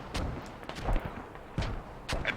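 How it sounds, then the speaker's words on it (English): Repeated booming blasts from continuous mortar fire in a military video game come as several heavy, overlapping explosions in quick irregular succession, loud and close with no voices. "mortars are continuous right now"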